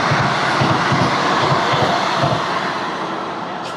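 A Vande Bharat train rumbles past at a level crossing, a steady loud broadband roar with rhythmic low thumps of wheels over rail joints, easing slightly toward the end.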